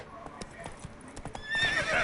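Roach the horse trots in The Witcher 3, hooves clip-clopping in a quick close rhythm, then a whinny rises near the end.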